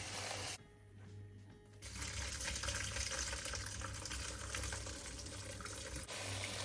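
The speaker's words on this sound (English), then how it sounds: "Let the water run again." Tap water runs steadily into a sink while beans are rinsed, with a constant splashing hiss, briefly quieter near the start, close by and without voices.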